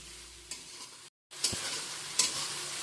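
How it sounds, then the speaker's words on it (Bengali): Onions frying in oil over a high flame, a quiet sizzle broken by a few clinks and scrapes of a spatula stirring, with a brief silent gap midway. "একটু হাই ফ্লেমে দিয়ে আমি পেঁয়াজটা ভেজে নেবো সামান্য একটু গোল্ডেন ব্রাউন করে ভেজে নিলেই হয়ে যাবে"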